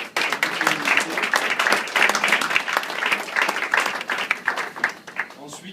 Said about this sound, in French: Donc je voudrais qu'on applaudisse